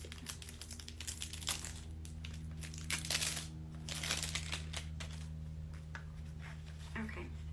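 Crinkling and crackling of packaging, with scattered rustles and cuts, close by and fairly steady, a few bursts louder than the rest.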